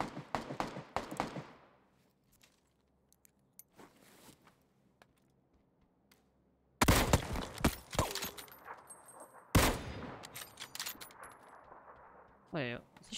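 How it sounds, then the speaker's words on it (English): Gunfire in PUBG, with a burst of loud, sharp shots near the start, then sparse faint clicks and steps. Two louder bursts of shots and movement follow later, with a rising whistle-like tone at the end. "Wait, is he shooting at me through the wall?"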